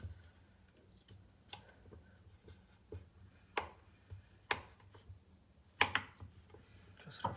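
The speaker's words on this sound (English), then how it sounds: "Gonna cut the butter in small cubes so it will get easily soft." A kitchen knife cuts a block of butter into small cubes on a cutting board, producing a series of irregular taps and thuds, close and clear, with a low hum underneath and no talking.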